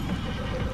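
A horse whinnies in the desert level of the mobile driving game Smashy Road: Wanted 2. The neigh is short and fairly loud over dense, busy game noise, with no talking.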